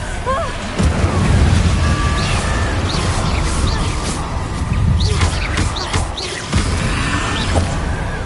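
Fiery Confringo spell blasts crackle and boom in Hogwarts Legacy amid a dense, loud battle din with whooshes and crashes throughout.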